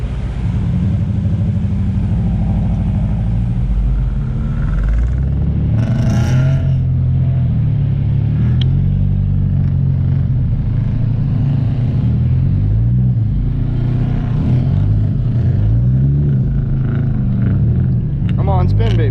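A car drifting on snow around Christmas, its engine rumbling and revving steadily up close with shifting pitch and a brief scrape, while a person talks over it throughout.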